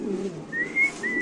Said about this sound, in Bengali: কবুতর ডাক দেখলে তো শান্তি আল্লাহর মধ্যে।